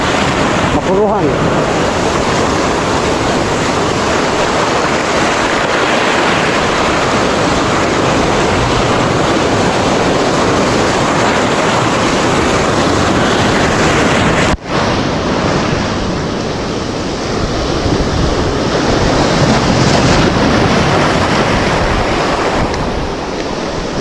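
Sea waves and wind roar loudly and continuously around a fishing boat, with a harsh, buffeting wash that never lets up and a brief dropout midway.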